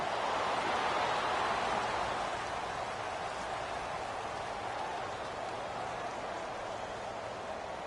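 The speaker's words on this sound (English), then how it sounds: "the forecast called for rain throughout the entire game, and we got rain throughout the entire game" Steady rain hisses as a dense, even wash throughout a video game football match, loud and continuous with no pauses.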